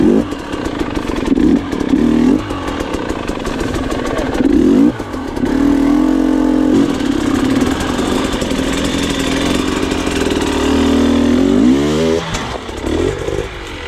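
An enduro motorcycle engine revs hard on a sandy trail, loud and close, the throttle cycling on and off in repeated surges with brief drops and clattering between pulls.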